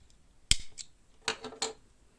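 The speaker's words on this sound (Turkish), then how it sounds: "Filoş ipimi yine 30 santim genişliğinde kesiyorum" Scissors cut floss thread for a handmade bracelet: three crisp little snips close by, spaced about a second apart, in a quiet room.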